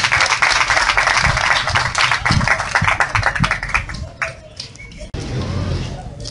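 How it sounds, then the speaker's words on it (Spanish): Applause and clapping from an outdoor audience at a photography postcard contest in a garden in Pénjamo, Guanajuato, a dense continuous patter that thins briefly near the end and then resumes. "Muy bien, aplausos, compañeros,"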